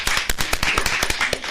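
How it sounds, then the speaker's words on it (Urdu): Audience clapping for a keyboard player on a radio show, heard as a quick, uneven run of sharp, close claps with no voices over them. "ان کے لیے تالیاں ہوں گی"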